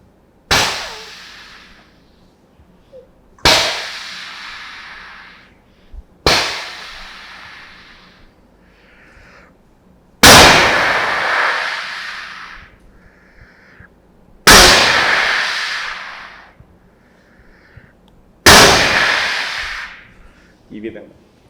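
A voice mimics an 81mm mortar firing, six sharp blasts spaced a few seconds apart, each decaying into a rumbling tail, with quiet gaps between.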